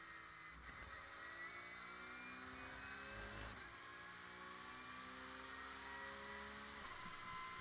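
An onboard race car engine at Chang Circuit screams at high revs, with steady gear-change dips and rises in pitch, loud and close throughout, and nobody speaking.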